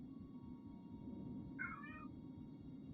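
A spoiled pet cat named Samantha gives a single short, clear meow in a quiet home office over a faint background hum.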